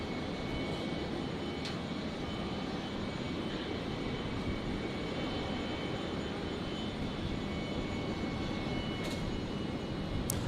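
Airbus A380 jet at Brisbane airport, a steady broad roar of engines holding at constant loudness throughout, with no voices present.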